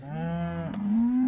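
A cow mooing in a pasture as the herd is moved to new grazing, one long, close, loud low moo that rises and holds at the end.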